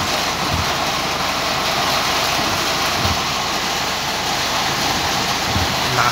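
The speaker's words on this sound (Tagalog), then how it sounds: "Super lakas ng ulan." Heavy rain drums steadily and loudly on a car during a downpour in Riyadh, a dense, unbroken wash of noise with no voices.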